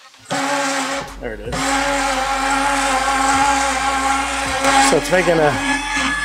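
The electric motor of a Happijac camper jack runs with a loud, steady whine and grinding, cutting out briefly near the start and then running on. Someone speaks briefly over it.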